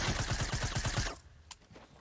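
Rapid automatic gunfire in a video game, about a second of fast evenly spaced shots, then quiet with a single faint sharp pop.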